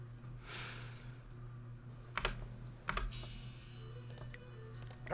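Computer mouse clicking during play of the video game Jade Empire, a few sharp clicks in quick pairs over a steady low hum of game audio.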